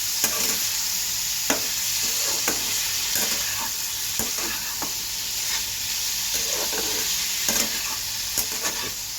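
Small shrimp coated in salt and turmeric fry lightly in a pan with a continuous bright sizzle, broken by occasional stirring clicks and spatters.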